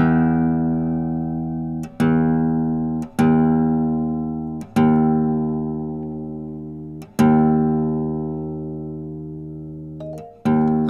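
A guitar tuning app set to half-step-down tuning plays a series of sustained reference tones, about seven notes struck one after another. Each rings out clearly and slowly fades, with no talk over them.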